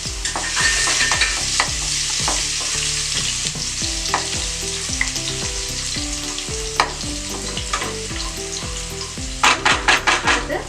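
Finely chopped garlic frying in olive oil for chicken cheese lasagna, a loud continuous sizzle with rhythmic stirring scrapes and clinks of a spoon against the pan, ending in a quick run of knocks, no talk.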